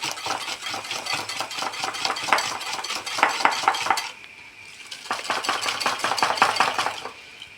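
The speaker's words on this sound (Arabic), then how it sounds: "كنحاول نطربها غير هكا بيديا بوحديتها حتى كيتغير اللون ديال البيض" Eggs whisked by hand in a bowl for a date basbousa batter, a quick run of rapid metallic clicks and taps that pauses briefly midway, then resumes with the same brisk rhythm, close and fairly loud with no talking.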